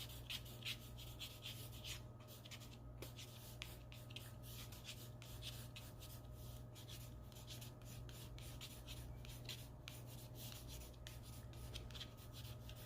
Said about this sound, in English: we're going to still use these side to side pencil marks.